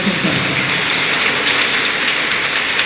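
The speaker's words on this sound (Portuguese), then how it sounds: "Vamos aplaudir o Senhor." A church congregation applauds in a dense, steady wash of clapping that holds at an even loudness for the whole stretch, with no voices rising above it.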